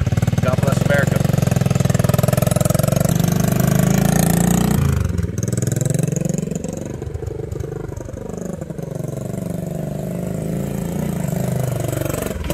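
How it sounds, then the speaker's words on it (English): A 1975 Honda XL70 motorcycle running close by, its small single-cylinder engine giving a loud, steady buzzing exhaust note that drops in pitch partway through and settles into a rough, sputtering idle. "Exhaust note."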